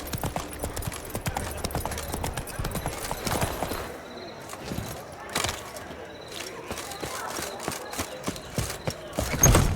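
Roach the horse galloping in The Witcher 3 through Novigrad, hooves striking in a fast, steady clip-clop rhythm close by, with faint background murmur and occasional creaks beneath the hoofbeats.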